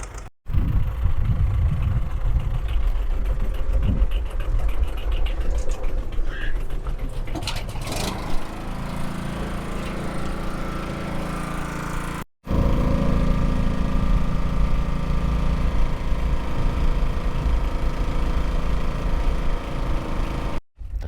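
A tractor engine idles steadily nearby beside a pump during herbicide spraying, a loud continuous low rumble that runs without pause apart from a brief cut midway.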